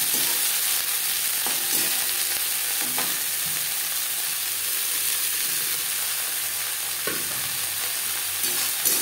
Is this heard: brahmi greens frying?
yes